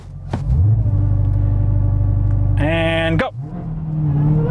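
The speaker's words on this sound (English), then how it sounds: "Activate launch control right there. Okay, press brake and quickly apply full throttle." Engine of a 797-horsepower Dodge Charger Hellcat roaring through a launch-control start, a loud sustained rumble that climbs sharply in revs before cutting off and settling back into a steady growl, with a voice speaking briefly over it.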